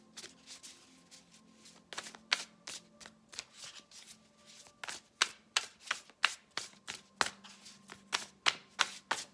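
Tarot cards shuffled close up in a quiet room, a rapid series of crisp slapping riffles that starts soft and irregular and grows louder and more rhythmic toward the end.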